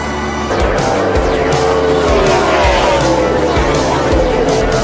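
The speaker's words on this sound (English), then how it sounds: "Oh, big crash in turn number 2." NASCAR race cars roaring past with tires squealing and skidding, a loud continuous engine din with sliding screeches rather than a clear impact, during a big crash in turn 2.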